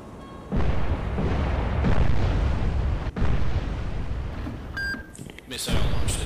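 A missile launch in the submarine game Cold Waters, a loud sustained roaring rush with a few beeps near the end and a voice speaking over it.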